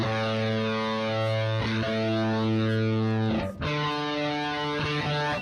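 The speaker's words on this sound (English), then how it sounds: "that distortion didn't need to be there" A heavily distorted electric guitar chord rings out loud and sustained, briefly cutting off and restarting before droning on.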